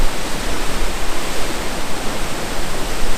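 The waterfall at Arthur's Pass roars loudly and steadily, a dense broadband rush of falling water close by with nothing else heard.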